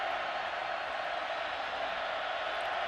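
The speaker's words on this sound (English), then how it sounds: "Crowd getting noisy on 3rd and 9." A football stadium crowd at a BYU home game against Houston, a steady broad roar of many voices building on a third-down play, continuous and fairly loud throughout with no distinct cheers standing out.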